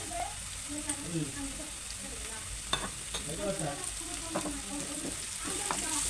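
Onions fried until reddish, with fresh-pounded ginger garlic paste and turmeric, for a mutton gravy curry. A steady frying hiss runs throughout, broken by scattered stirring scrapes and clicks at a moderate distance, with no speech.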